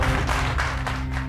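A crowd at a school gives brief, dense applause welcoming the new school secretary.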